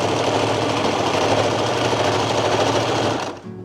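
A sewing machine stitching fabric runs loud and close in a fast, even mechanical chatter, then slows and stops just before the end.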